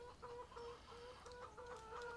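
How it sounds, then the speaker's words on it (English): Chickens in the video game Farming Simulator 17 cluck in short, repeated bursts at low volume, a soft farmyard pattern of overlapping clucks with no talking. "I'm hearing chickens."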